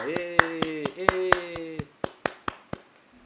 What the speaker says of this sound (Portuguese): Eu vou fazer palma eu mesmo.